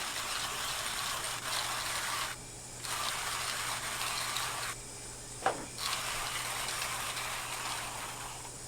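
Coffee beans are ground in a grinder for Flair Pro 2 espresso, a steady, gritty whirring hiss that runs for several seconds, broken by two short pauses, with a small click partway through.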